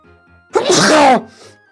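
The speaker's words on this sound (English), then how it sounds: "Big sneeze." A single loud, explosive sneeze up close, with a short gasp before it and quiet breathing after.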